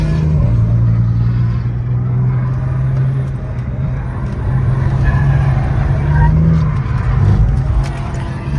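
A car drifting on a race circuit during a track day, heard as a steady loud engine drone with shifting pitch and tyre noise, with voices talking over it.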